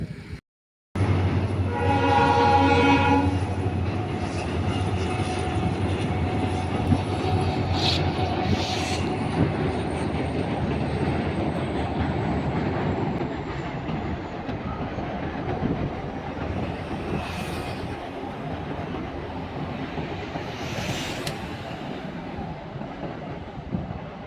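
A train crosses a sea bridge near Rameswaram, India, opening with a loud horn blast over a steady rolling rumble of wheels on the track, with further faint horn notes later as it passes.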